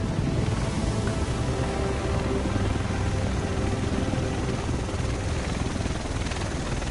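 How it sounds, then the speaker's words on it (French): Helicopter in the video game The Division, a loud continuous rotor roar and whine that holds steady throughout with no one speaking. "Le reste de l'équipe devrait être dans cet hélico."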